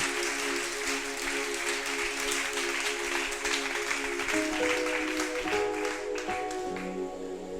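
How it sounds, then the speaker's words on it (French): A church congregation applauds their deacon, sustained clapping from a crowd filling the room while organ or keyboard chords sound underneath. "Acclame pour notre diacre."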